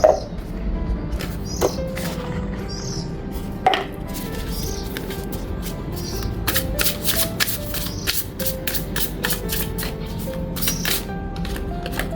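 Tarot cards shuffled by hand at close range, a continuous papery riffling with soft flutters and occasional sharper taps as the deck is squared, steady throughout with no talking.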